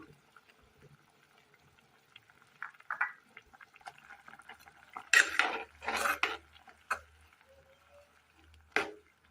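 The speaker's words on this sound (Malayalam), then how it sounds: "അരപ്പ് കലക്കി ഒഴിക്കാം" Kitchen sounds of a spoon clinking against a pot, with bursts of ground paste mixed in curry water being poured and stirred into a curry, fairly close, no talking.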